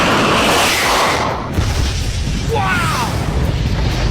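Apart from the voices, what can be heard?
detonation of aviation rocket propellant propelling sled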